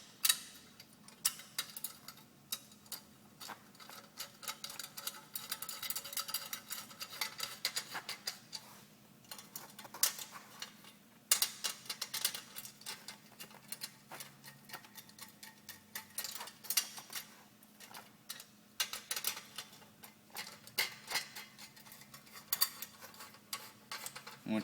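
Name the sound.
snugging down motorcycle exhaust bolts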